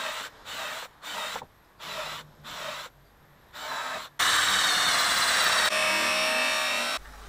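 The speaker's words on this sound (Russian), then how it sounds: "Под крепежные саморезы для ступеней засверливаем отверстие." A drill bores screw holes into wooden stair steps, starting with five short, evenly spaced bursts and then running in one long, loud continuous whir near the end.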